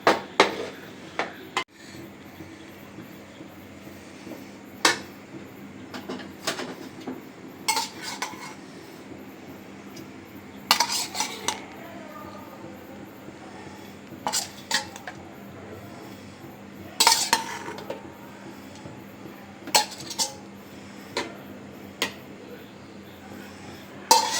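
A spoon scrapes and clinks as pulao rice is scooped from a pot onto a plate, a run of scattered metallic taps and scrapes close by with quiet pauses between them.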